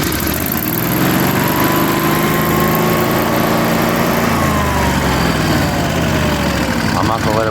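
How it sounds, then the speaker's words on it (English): A Generac Guardian 24 kW propane standby generator engine runs loudly and steadily up close, a continuous mechanical drone with faint shifts in pitch throughout. "I go ahead and start the engine"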